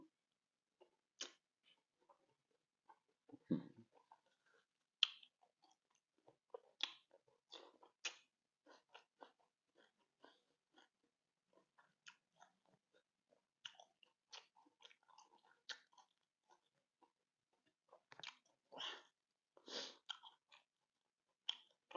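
Close, quiet chewing and crunching of spicy lime pork, Thai moo manao, with scattered bites and wet mouth sounds in an irregular rhythm and nearly silent gaps between them.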